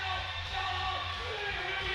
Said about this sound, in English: You hear the crowd here is going absolutely bananas.